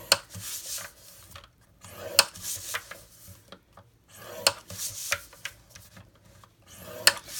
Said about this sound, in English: So we're going to score on all 4 sides at 1 inch.